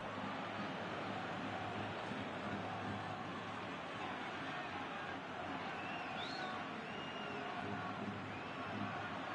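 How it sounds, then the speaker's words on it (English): A football stadium crowd in a video game gives off a constant, dense roar of cheering and murmur, with no breaks and no talk over it. "the crowd clearly like what they just saw"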